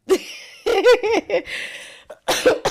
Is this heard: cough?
yes